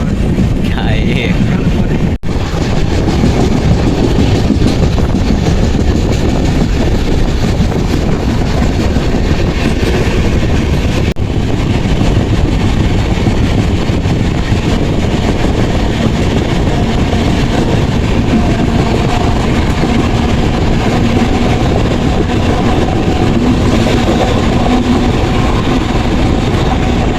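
A Howrah Mail sleeper-class train runs along the rails, giving a constant loud rumble with wind buffeting the microphone throughout, close and unbroken for the whole stretch.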